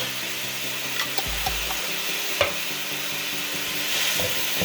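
Chopped garlic being stirred in a pan while cooking mostaccioli, with soft sizzling and a few scraping clicks from the utensil, and a brief low rumble early on.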